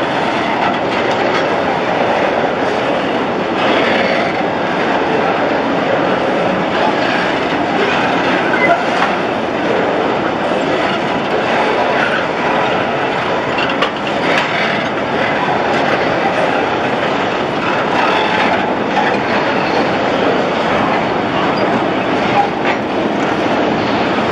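An empty grain freight train slowly picks up speed on a Saturday morning near Curitiba, Paraná. Wagons roll past close by with a steady rumble and rhythmic clickety-clack of wheels and faint squeals, loud and continuous throughout.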